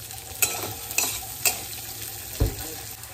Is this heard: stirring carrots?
yes